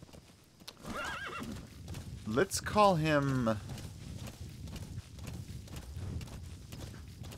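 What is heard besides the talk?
horse hooves clip-clopping in a video game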